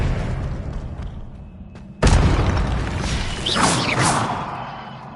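Blasting-spell explosion in a video game, a sudden loud boom that follows a background rumble, then rolls into a whooshing, crackling tail.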